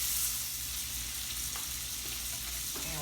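Shrimp fry in a pan for shrimp and grits, a dense steady sizzle with faint stirring scrapes, close and continuous with no talking.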